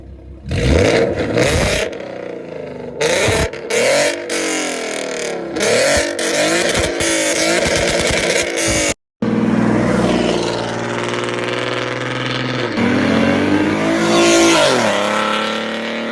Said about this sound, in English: So go ahead and check out his exhaust setup. It sounds really good.